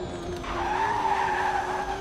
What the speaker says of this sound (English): Oh, yes, nice drift there.